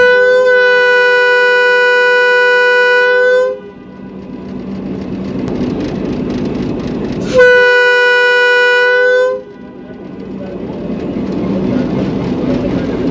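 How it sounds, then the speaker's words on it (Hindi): Hitachi PHA-series diesel locomotive departing a station in Punjab, sounding two long, loud, steady horn blasts, the second shorter, over a continuous engine rumble that builds between them. "हिटाची के स्वीट विसल्स के साथ बलवाल से रवाना होते हुए"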